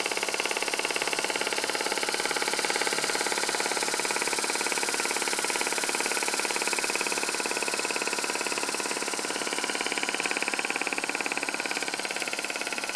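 Small model marine steam screw engine with 5/8 inch bore and stroke, oiled through its exhaust pipe, runs steadily with a continuous hissing, rapid chuffing texture, close and even in loudness throughout with no talk.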